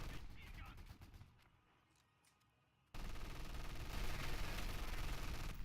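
Rapid machine gun fire, including an MG42, in a WWII video game battle for Caen, steady and dense bursts that drop away briefly, then return loud and continuous with other gunfire.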